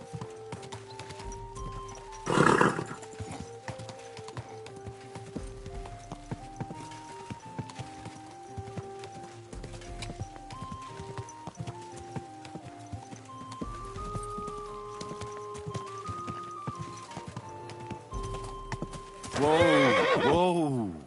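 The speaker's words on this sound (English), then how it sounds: "Is this your first time riding a horse?" A horse ridden in Kingdom Come: Deliverance 2 walks with steady clip-clop hooves, neighing loudly near the start and again at the end, while a game music bed plays underneath.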